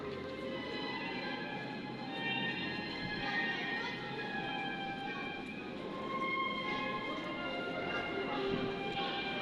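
A Moscow metro train runs at Chistye Prudy, one of the city's old stations, giving a continuous rumbling roar with whining tones and squeals throughout at a moderate distance.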